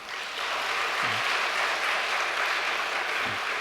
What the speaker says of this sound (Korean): 감사의 박수를 보내 올리고 싶습니다